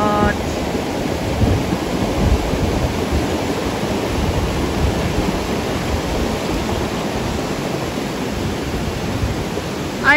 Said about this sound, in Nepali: यस्तो खोला बगे छ यतातिर हेर्नु त